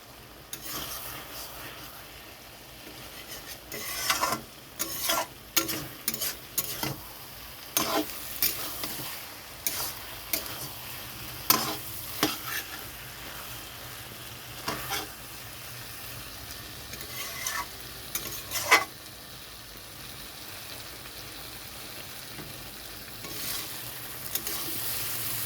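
Taro stolons and shrimp stirred and sautéed in a pan, a close scraping and sizzling with irregular bursts of utensil strokes over a quiet, steady fry, no talking.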